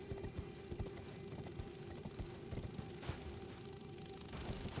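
Galloping horse hooves in Elden Ring, a rapid irregular drumming of hoofbeats over a humming game score, fairly close, with a sharper thump partway through.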